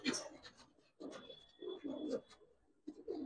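Giribaz pigeons coo in a loft, several soft throaty bursts repeating close by, with a bird call and faint voices between them.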